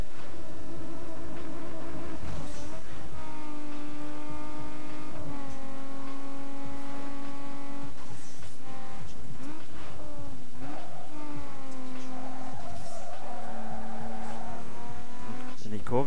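Race car engines in Need for Speed Underground 2 rev and climb through gears, with loud, close whining acceleration that drops between shifts and brief tire squeals through corners.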